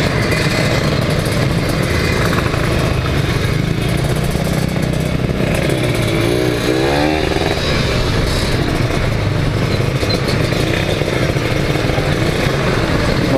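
Kawasaki Ninja 150 motorcycle engine droning loud and steady throughout a night ride through Jakarta's streets, with a brief rising rev near the middle and constant road and wind noise.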